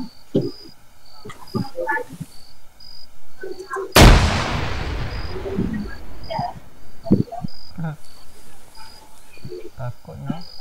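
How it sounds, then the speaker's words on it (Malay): A grenade explodes in the military shooter Arma 3, a single loud, sharp blast with a rumbling decay, surrounded by faint insect chirps and a player's voice before and after. "Nice throw grenade."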